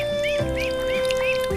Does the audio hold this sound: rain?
no